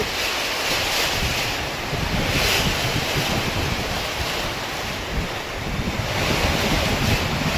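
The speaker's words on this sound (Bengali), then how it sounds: "দেখো তুফান হচ্ছে এখন, দেখো" Storm wind roars steadily in gusts, a loud, constant rushing blast that swells and eases over several seconds, with no voices.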